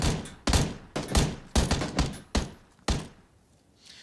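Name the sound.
gunshots in video game PUBG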